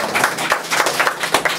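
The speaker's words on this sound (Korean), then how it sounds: "박수 한번 주세요." An audience at a talk show on algorithmic bias and digital literacy applauds, a dense burst of many hands clapping close and loud, sustained for the whole moment with no speech over it.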